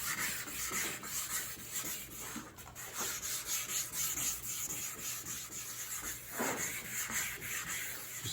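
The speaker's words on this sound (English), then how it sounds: "Using 1200 grit sandpaper." Hand sanding on a 1984 Corvette with 1200 grit sandpaper gives a soft, close, continuous rubbing hiss with a steady back-and-forth stroke rhythm, faint and alone.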